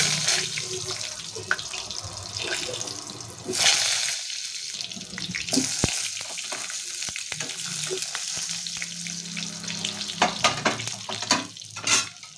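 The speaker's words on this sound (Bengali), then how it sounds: "এবার বেগুনগুলোকে ভেজে নেব এক এক করে বেগুনগুলো ছাড়বো আমরা" Eggplant slices frying in hot mustard oil with a steady sizzle, broken by occasional clinks and scrapes of a utensil against the pan; no talking.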